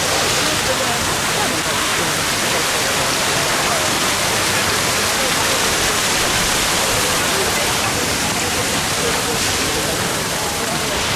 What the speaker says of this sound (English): The rain's only just started to get bad though now, hasn't it?